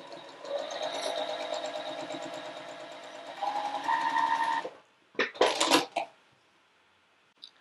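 A sewing machine stitches a quilt block with a steady, fast mechanical whirr for several seconds. It stops and is followed by a few sharp metallic clinks and rattles, then quiet.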